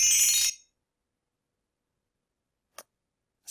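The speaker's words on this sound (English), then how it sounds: "Fairy dust." A Scratch library fairy dust effect: a short, bright, sparkly magical shimmer that bursts at the start, then cuts off into silence with only a couple of tiny faint ticks afterwards.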